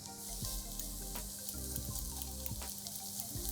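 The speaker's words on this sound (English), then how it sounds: "I'm going to add 1 chopped onion and saute this" Chopped onion and sliced garlic sauté in a pan, giving a soft steady sizzle with faint crackles and small pops scattered throughout, quiet and close, under a low background hum.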